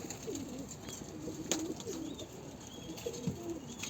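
Soft, low coos from a Dolapçı pigeon repeat in short phrases over a steady background hum, close by and fairly quiet.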